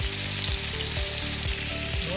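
A pork chop fries in a hot pan, a steady close sizzle with bubbling crackle running unbroken under a low rhythmic clatter throughout.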